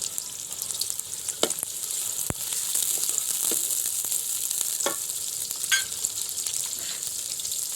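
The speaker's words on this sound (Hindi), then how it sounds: "ये घी जो है वो गर्म हो गया। अब इसमें प्याज डालेंगे।" Onions frying in hot ghee over a wood-fired clay stove, a loud, constant close sizzle with a few stirring knocks and clicks, no speech.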